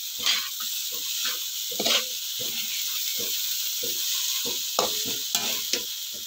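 Tender juicy chicken hotdogs fry in a pan for a chicken spaghetti sauce, a continuous close sizzle broken by repeated scraping stirs and clinks of the utensil.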